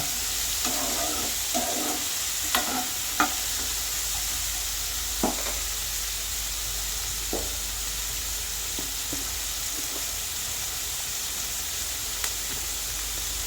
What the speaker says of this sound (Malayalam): സവാളയും ഇഞ്ചിയും പച്ചമുളകും എല്ലാം കൂടി നമുക്ക് നല്ല പോലെ യോജിപ്പിച്ച് കൊടുക്കാം